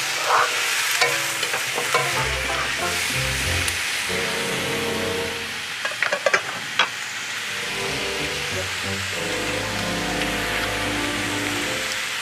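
Prawns and capsicum stir-fried in a hot pan crackle with a busy, continuous sizzle, punctuated by spatula scrapes and clatter, close and moderately loud with no talking.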